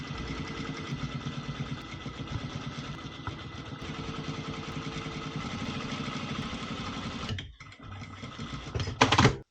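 A sewing machine stitches a locking seam beneath the overlock on a waterproof softshell jacket, running as a steady, close mechanical hum with rapid rhythmic ticking, stopping briefly before a final short, louder burst.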